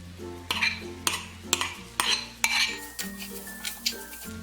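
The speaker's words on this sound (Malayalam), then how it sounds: "ഇത് ഇതിലേക്ക് ഇട്ടിട്ട് നല്ലതുപോലെ ഒന്ന് ഇളക്കി കൊടുക്കാം." Metal spoon scrapes and clinks rhythmically against a pan as crushed prawn masala is stirred, about eight sharp strokes over a faint background hum, with no voices.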